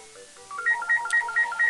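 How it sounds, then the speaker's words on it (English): A telephone ringing in a house: a short electronic trill of repeating warbling tones, steady and moderately loud with no talk over it. "oh goody, the phone's ringing"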